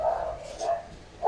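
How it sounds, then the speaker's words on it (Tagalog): A dog barks outdoors in a few short, separate bursts, fairly close and moderately loud, with quiet gaps between the barks. "so pasensya na sa aso sa labas."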